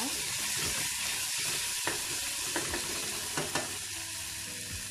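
One small tomato frying in a pan for plain biryani (kushka), giving a dense steady hiss and sizzle throughout with a few light stirring knocks, close and without talk.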